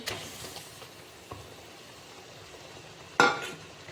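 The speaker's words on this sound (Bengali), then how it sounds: "যেহেতু একটু মিষ্টি তো লাগবেই তাই সাধারণত চিনি দিয়ে দিচ্ছি তাতে আমি বেজে রাখা পটলগুলি দিয়ে দিচ্ছি" Fried pointed gourds with sugar sizzle faintly in a pan while a utensil stirs them, with a few soft scrapes and one sharper clink against the pan.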